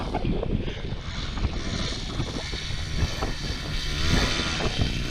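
A small mini bike engine buzzes loudly at full throttle on a bumpy test ride, a continuous rough, rattling drone that stays close and steady throughout.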